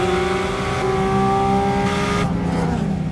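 A naturally aspirated flat-six in a mid-engine Porsche Cayman, such as the 987.2, 981 or GT4 RS, revs hard and close. A loud, sustained mechanical wail holds its pitch, then drops away near the end.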